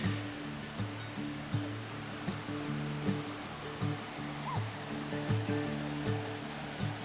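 The waterfall on the Reedy River in Falls Park, Greenville, South Carolina, gives a steady rushing roar. A low, rhythmic hum pulses underneath, and no one speaks.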